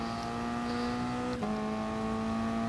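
A race car engine in a racing video game at Brands Hatch drones steadily under acceleration, with a brief gear-shift dip partway through before the tone climbs again; no voices.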